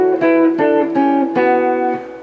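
Two electric guitars play a short Aeolian mode line harmonized in fifths, a handful of distinct picked notes in a moderate rhythm, clear and close with no talking.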